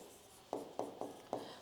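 A pen writing by hand on paper while working a statistics exam problem, giving four short scratchy strokes in quick succession, close and quiet against a soft background hiss.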